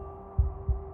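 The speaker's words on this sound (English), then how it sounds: "a wooden and fleshy heart beating with an unbroken rhythm" A wooden, fleshy heart in the video game Slay the Princess beats twice in a steady rhythm, each thump deep and close over a low droning hum.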